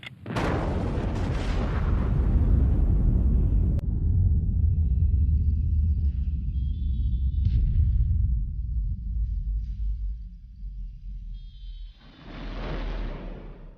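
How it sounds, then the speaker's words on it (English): A radio-controlled underwater nuclear test blast at Los Alamos bursts out as a loud, deep roar that rumbles on for about ten seconds, fades, then swells again in a second low surge near the end. "5 radio control circuits will set off the blast in this prelude to push-button warfare"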